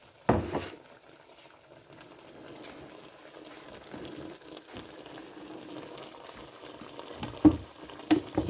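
A pig's trotter civet sauce, thickened with a little flour, simmers in a pot with a low, steady bubbling and a few louder knocks and clatters of the pan near the start and end.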